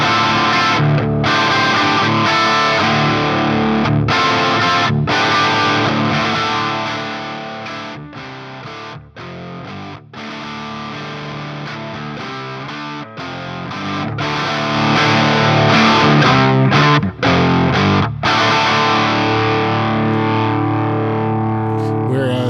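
An electric guitar played through a DiBiQuadro JupiterXTC distortion pedal gives a loud, saturated tone of strummed chords and riffs; it dips in volume midway as the channel volume knob is turned, then swells back to full strength.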